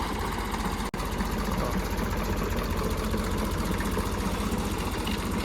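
A tractor carrying a utility-pole erecting system idles close by, a steady, throbbing mechanical drone with a fast regular beat and one brief dropout near the start.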